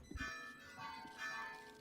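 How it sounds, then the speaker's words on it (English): Christmas bells ring in soft, overlapping chimes with sustained tones that swell twice, faint and somewhat distant, with a low thump at the start. "I can mute if you guys don't want to hear the bells"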